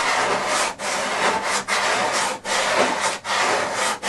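A sanding grip shapes the leading edge of a Simprop Solution XL model glider wing. Steady, rhythmic back-and-forth rasping strokes sound close up with no talking.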